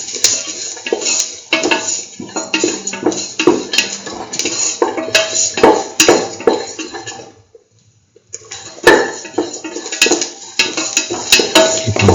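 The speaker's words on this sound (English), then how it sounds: "Sauteing the garlic pieces until they become slightly yellowish." Garlic pieces are sauteed in a pan, with frequent scraping and clinking of a utensil against the metal over a low sizzle and a brief quiet pause midway.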